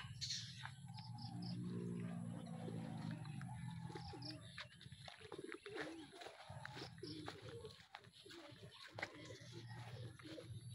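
Racing pigeons return to a loft at Pakil and Lumban, Laguna, cooing softly and fluttering at close range, with faint chirps and insect sounds under quiet ambient noise.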